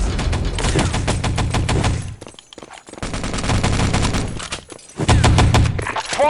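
Bursts of rapid automatic gunfire in the video game Wolfenstein: Enemy Territory, loud and dense, broken by short gaps before the shooting resumes, with harsh crackling shots stacking in quick succession.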